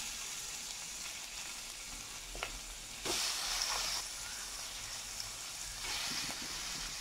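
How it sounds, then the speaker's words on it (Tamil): Chicken sautéing in ginger garlic paste in a pan, a steady hissing fry with a few faint clicks and a louder burst of sizzle partway through, no voices. "சிக்கனை வந்து நம்ம நல்லா வதக்கிக்கலாம்."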